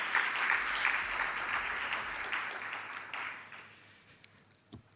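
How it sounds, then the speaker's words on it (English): An audience at a 2022 startup pitch bootcamp applauds warmly, steady clapping that gradually thins out and fades near the end. "Can we have a warm applause for them"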